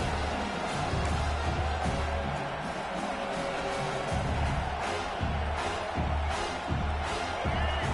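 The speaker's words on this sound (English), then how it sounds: "This crowd bringing the energy and noise early" A large stadium crowd roars and cheers steadily throughout in College Football 26, a continuous wash of distant noise with occasional swells.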